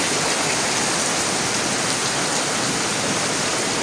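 Steady heavy rain pouring down, a dense, unbroken hiss that stays loud and even throughout with no voices.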